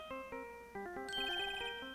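Phone ringtone in Phoenix Wright: Ace Attorney playing a theme, a bright electronic melody of clear stepped notes that rises and continues steadily, played alone.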